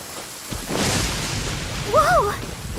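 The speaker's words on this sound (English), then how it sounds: "Don't stay out in the rain for too long." Rain in the Genshin Impact game: a soft, even hiss of falling rain with a brief rumbling swell, overlaid near the end by a short chirpy tonal game sound.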